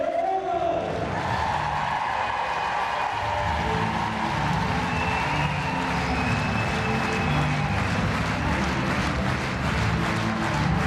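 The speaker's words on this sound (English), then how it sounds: "a huge response and a huge applause from the Swedish crowd" A large Swedish crowd applauds at the Stockholm 2022 show jumping Grand Prix, with broad sustained clapping and cheering filling the arena for the whole stretch, steady and dense at a constant loud level.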